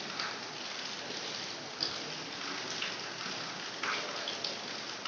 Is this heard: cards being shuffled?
no